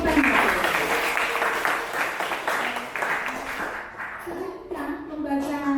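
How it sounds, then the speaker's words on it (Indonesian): Sustained applause from a crowd, steady and fairly loud, with some chatter and a voice breaking through near the end. "Oke, tepuk tangan."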